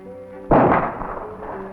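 A single loud, sharp big-game rifle shot fired through a telescope sight while sighting in, cracking out abruptly and decaying over a second above a faint steady tonal background.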